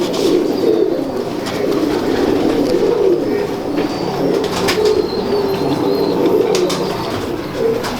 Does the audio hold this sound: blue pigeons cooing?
yes